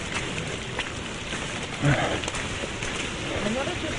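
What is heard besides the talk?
rain falling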